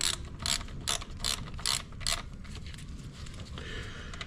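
Ratchet snugging down chain case bolts on a 2011 Ski-Doo 1200 TNT snowmobile, giving about six loud, evenly spaced clicking strokes up close, followed by a quieter mechanical whir.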